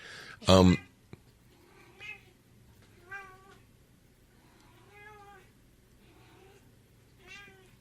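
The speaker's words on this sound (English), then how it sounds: "we don't have a lot of recordings of her just meowing" Cat meowing, a loud sharp cry near the start followed by several softer, drawn-out meows spaced a second or two apart, with a faint low hum underneath.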